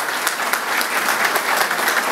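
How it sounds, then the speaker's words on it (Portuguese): A crowd claps steadily at a motorcycle sports event, dense and bright, a continuous patter of many hands throughout. "uma salva de palmas para o nosso mopense, Antônio Henrique"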